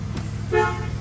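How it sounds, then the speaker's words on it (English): Horn of a 1974 Buick LeSabre sounds in one short, clear toot of about a fifth of a second, close by, over the low idle rumble of the car. "Horn works."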